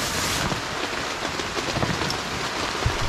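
Steady rain hisses and patters on surfaces nearby, a dense, even wash of droplets with no voices.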